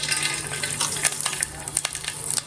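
Crackling, spattering sizzle of mustard seeds popping in hot sesame oil, with irregular sharp pops over a steady frying hiss, close by.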